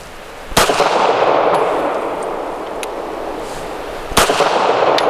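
Two sharp, loud pistol shots from a Smith & Wesson Equalizer firing 147 grain ammunition, several seconds apart, each a hard crack followed by a ringing echo and a softer range background between them.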